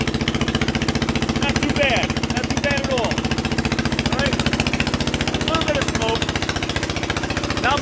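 An Onan 3.0 DJA generator engine chugs hard under load, a steady, loud rhythmic thrum with pulsing exhaust beats throughout, and faint voices come through under the noise.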